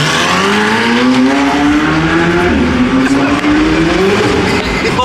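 A McLaren Senna GTR engine revs hard and climbs in pitch, tires squealing with wheelspin as it accelerates on city streets, loud and close with no talking.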